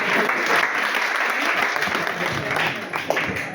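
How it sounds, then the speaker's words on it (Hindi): Audience at a TIENS sales demo event applauding loudly for a guest being welcomed, dense sustained clapping from a crowd with a few louder claps standing out near the end. "तो एक बार जोरदार तालियां होनी चाहिए"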